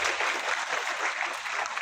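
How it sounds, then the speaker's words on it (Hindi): A crowd applauding steadily, dense clapping from many hands throughout. "हमारे बीच जोरदार तालियों के साथ"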